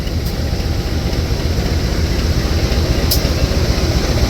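A CC201 diesel locomotive, number CC201-8315, idles at the Purwokerto main depot, giving a steady, loud low rumble with no break and no talk.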